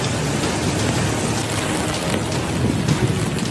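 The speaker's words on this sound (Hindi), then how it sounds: "कुछ शहरों में मूसलाधार बारिश हुई है।" Heavy downpour in Abha, Asir province, Saudi Arabia, a dense, steady roar of rain hissing continuously and loudly with no pauses, no voices present.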